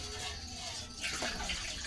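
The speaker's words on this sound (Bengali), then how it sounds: "আর একটু জল লাগবে, আমি দিয়ে দিচ্ছি।" Water pours into a cooking pot in a home kitchen, a soft continuous splashing that grows slightly stronger partway through and sits under low background noise.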